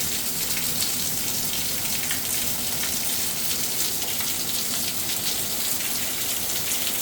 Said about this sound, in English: Alright, it's just raining,